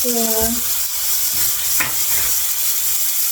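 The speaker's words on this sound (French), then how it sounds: "Et je vais retourner le steak haché" Loud, steady sizzling of a minced beef steak frying in a pan, with a brief tonal clink at the start and a few scrapes as it is turned; no talking.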